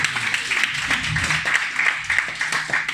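A comedy club audience applauding, a thick burst of clapping at close range that carries on steadily for a few seconds with some laughter mixed in.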